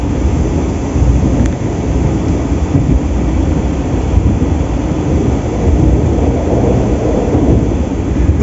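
Interior cabin noise aboard a running Logawa New Generation economy-class train between Jember and Surabaya: a loud, continuous low rumble and rolling hum that holds steady throughout, with no talking.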